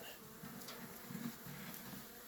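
Steady low droning hum of many honey bees buzzing close by on a hive frame, continuous and even, with no voices.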